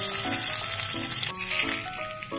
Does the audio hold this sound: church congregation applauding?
no